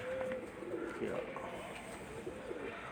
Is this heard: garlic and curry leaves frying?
no